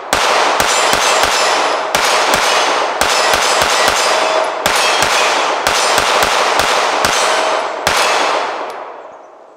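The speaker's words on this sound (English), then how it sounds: "This is really fun to shoot," A Springfield Echelon 4.0c Comp compact pistol fires in quick strings of loud, sharp shots, several short bursts of rapid reports with ringing tails and brief pauses between them, ending in a fading echo.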